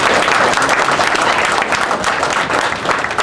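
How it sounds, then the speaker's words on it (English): Loud, dense applause from a large audience at a Dominican civic gathering honouring Edward Oliver LeBlanc, a steady roar of many hands clapping without pause, with faint voices mixed in. "a round of applause for him, ladies and gentlemen"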